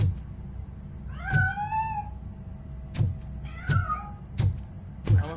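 A cat meows several times in a row, short rising and falling calls broken by sharp thumps or knocks, fairly close and with no talking.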